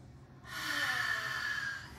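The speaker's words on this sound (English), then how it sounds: "Breathing 5 times, full breaths." One deep, full breath drawn in during a workout breathing exercise, a close, rushing airy inhale that swells and then fades slowly.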